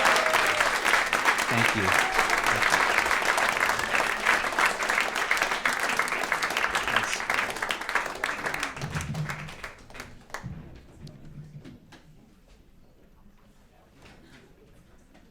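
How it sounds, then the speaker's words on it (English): Audience applause for the Long Island Vegetable Orchestra, a dense round of clapping that fills the first nine seconds, then thins to scattered claps and fades, with a brief spoken thanks. "a big round of applause for the Long Island Vegetable Orchestra"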